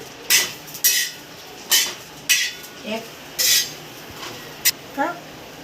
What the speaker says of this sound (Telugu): తాలింపు కోసము ఇప్పుడు చిన్న ఒక కళాయి తీసుకుంటున్నాను